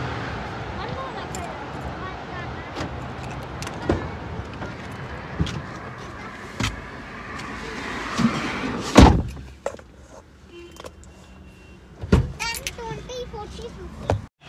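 Car doors open and shut with several solid thuds and clicks as people climb into the car, with voices talking nearby throughout.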